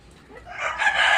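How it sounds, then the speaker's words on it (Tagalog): A chicken's call swells and rises among a flock of hens on a farm, loud and close, building into a sustained harmonic crow within about a second. "Kayo na lang taga-manawa guys ng mga manok dito."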